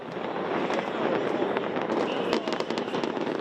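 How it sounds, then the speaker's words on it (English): New Year fireworks over Melbourne, launched from 27 skyscrapers, crackle and pop in a continuous dense barrage with sharper bursts near the end, loud and steady with no talk. "fireworks exploding from 27 skyscrapers"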